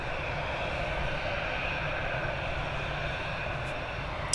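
Steady broadband roar of an airplane departing Dublin Airport, a continuous jet rumble holding at even loudness throughout with no voices over it.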